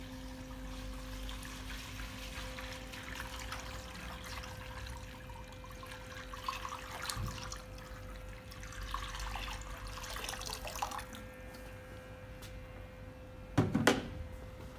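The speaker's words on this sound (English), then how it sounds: "I've just got a 5 litre container of water. So we're just going to" Water trickles and splashes steadily from a 5-litre container into a rust-removal bath, a soft continuous pour with a brief louder splash near the end.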